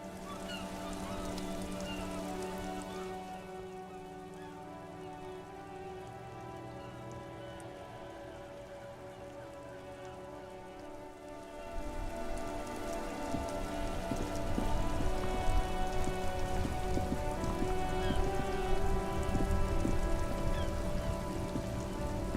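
Steady video game rain from Disco Elysium patters on a surface, growing heavier partway through, with a low hum of traffic-jam noise beneath.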